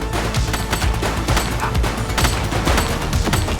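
Sustained gunfire in the police video game The Precinct: loud, dense bursts of shots crackle continuously over a booming backdrop with no pauses throughout.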